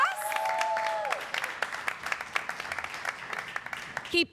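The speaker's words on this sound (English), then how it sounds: "Keep that applause going for our next Outspoken Saturday poet, Jenelyse." Audience at a poetry reading clapping in a burst that thins into scattered claps, with a voice speaking over the start and another brief voice near the end.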